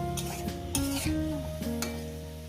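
A mixture of small river fish and vegetables is stirred as it sautés in a pan, giving a soft sizzle under a few sharp scraping and clinking strokes of a utensil against the metal, with a faint tonal hum in the background.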